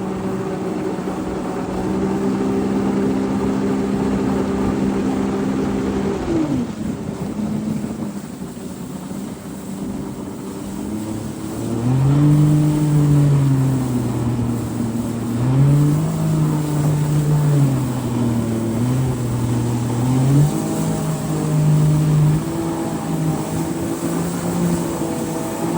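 A 2023 Yamaha VX Limited personal watercraft on a run through downtown Portland, engine humming steadily, then dropping off and climbing into a series of strong revs that rise and fall repeatedly, with wind buffeting the microphone.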